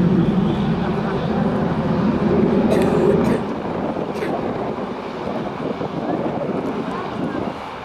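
An AV-8B Harrier II jet makes high-speed passes at the 2007 Dayton airshow, producing a loud, broad jet roar that is strongest for the first three seconds and then eases to a steady, distant rush.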